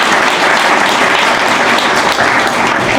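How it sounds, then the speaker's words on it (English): Town hall audience at a Philadelphia Asian American community event breaking into dense, steady applause, loud and close, sustained throughout without letup. "Give my friend Dr. Park a round of applause, please"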